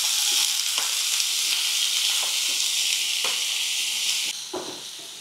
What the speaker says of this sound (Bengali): এবার আমি এই ছোট ছোট কেটে রাখে সেদ্ধ করা সবজিগুলো সব এর মধ্যে দিয়ে দেবো।